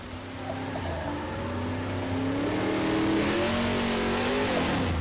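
A car engine in the video game Left 4 Dead 2 hums, then climbs in pitch as it accelerates, staying steady and fairly loud throughout.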